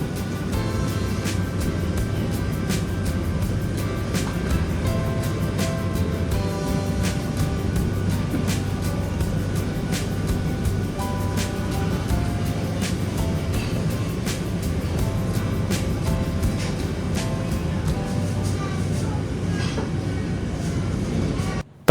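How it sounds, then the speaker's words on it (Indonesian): The locomotive of the Kaligung passenger train roars steadily as it gathers speed leaving Pemalang station, a continuous loud rumble with rapid clickety-clack rail beats running throughout. "Terus suara mesin lokomotif menggelegar, menandakan kecepatan kereta semakin bertambah"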